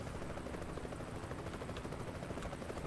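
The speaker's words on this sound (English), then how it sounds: "As we hear the helicopter in the distance." A helicopter's rotor beats steadily and continuously in the distance near the Grand Canyon in American Truck Simulator, a dense, uniform thrum with no talking.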